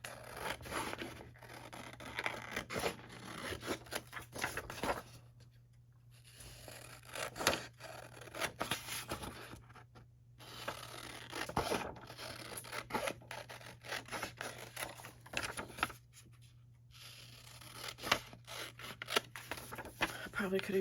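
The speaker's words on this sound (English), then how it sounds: "I'm going to go ahead and cut the same thing out of this one." Scissors snip repeatedly through paper or card in an indoor crafting session, producing close, irregular cutting and rustling sounds with brief pauses, over a steady low background hum.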